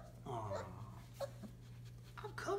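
27-day-old Entlebucher puppies whimper and yip softly in short bursts over a steady low hum, with faint rustling and a few sharper squeaks near the end.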